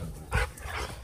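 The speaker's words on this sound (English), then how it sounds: "These dogs are fighting, ruining my vlog." Dogs scuffle nearby in a short, muffled burst of growling and yelping, fairly quiet and without talk.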